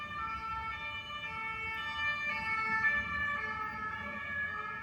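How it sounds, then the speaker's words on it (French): A passing emergency vehicle siren wails steadily with a rising and falling tone, moderately loud over low traffic rumble, with no talking. "Et avec la sirène qui passe"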